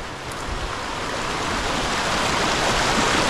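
A tiny creek runs down a small mountain valley, giving a steady broadband water rush that slowly grows louder, heard alone without voices.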